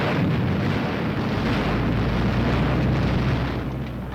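A tank's main gun firing produces a heavy, sustained booming roar with deep rumble throughout, loud and continuous with no voices.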